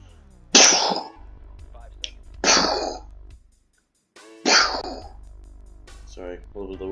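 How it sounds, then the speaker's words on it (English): A man with whooping cough coughs in three harsh, forceful bursts spaced a couple of seconds apart, close to the microphone over a quiet low hum, with small throat sounds in between. "Sorry, a little bit of whooping cough."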